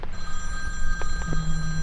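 A mobile phone rings indoors with a steady electronic tone, a short continuous ringing that holds for under two seconds at moderate loudness with no talking over it.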